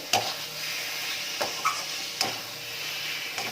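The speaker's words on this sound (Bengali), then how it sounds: "নাড়াচাড়া করতে করতে আচারটা অনেকটা টেনে এসছে" Thickened amla pickle stirred in a kadai, a steady frying sizzle broken by several sharp spoon scrapes and taps against the pan at irregular intervals, close up with no talking.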